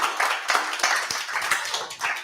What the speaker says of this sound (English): I think round of applause for Jack.